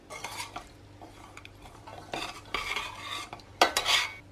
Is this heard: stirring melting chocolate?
yes